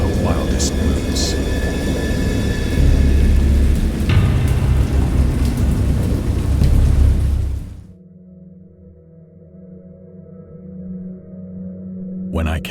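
Heavy stormy rain roars loud and dense with low rumbling thunder for several seconds, then drops off sharply into a quieter low, droning background.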